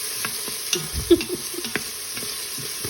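Frozen collard greens are stirred with a small wooden spoon in a hot pot: soft scrapes and knocks come irregularly over a low, steady sizzle, close and fairly quiet.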